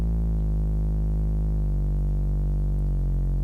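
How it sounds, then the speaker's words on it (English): Synth bass from a Serum preset without distortion, sustained low notes still slightly crunchy, stepping down in pitch twice and holding steady and full throughout. "Without the distortion plugin that I put on it, it just sounds like this"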